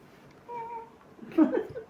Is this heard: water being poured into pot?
no